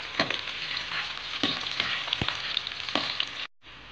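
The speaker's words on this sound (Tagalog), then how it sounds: "So mainit na yung mantika natin, ilagay ko na yung ating bawang at saka sibuyas." Chopped garlic and onion hit hot cooking oil and sizzle steadily with a bright hiss, crackling and a few stirring scrapes, close up, briefly cutting out near the end.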